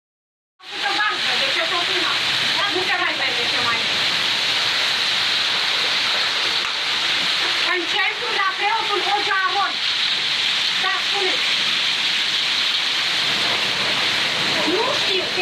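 Torrential rain in Mehedinți, Romania, falls during a hailstorm as a loud, dense, steady roar of downpour, with voices talking faintly beneath the wash of water.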